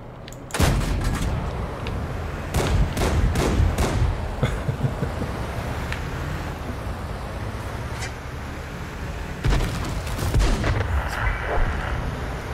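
Repeated heavy gunshots from a British wheeled armored vehicle in a tank video game, loud booming reports in clusters with a rumbling engine bed between them.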